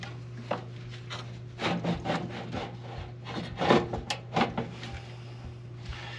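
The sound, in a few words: pulling a blower housing out of a furnace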